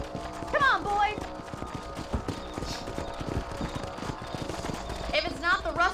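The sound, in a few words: horses' hooves clip-clopping as riders set off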